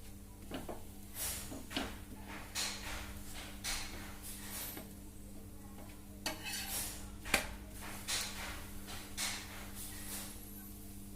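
A chapati turned repeatedly on a pan with a dosa spatula, light clinks and scrapes of metal on the pan recurring every second or so, with a soft sizzle underneath, fairly quiet.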